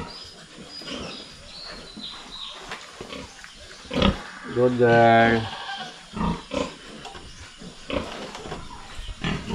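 A hybrid sow and her piglets on a farm give scattered grunts and a louder burst of squealing oinks in the middle, close by, while a person speaks briefly nearby.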